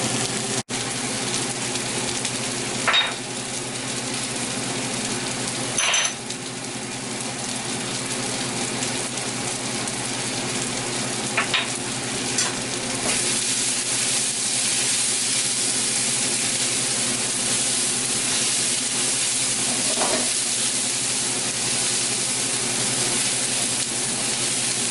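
Vegetables with oregano, thyme and parsley sizzling in a pan, a steady broadband hiss and crackle that runs unbroken throughout with a few faint clicks.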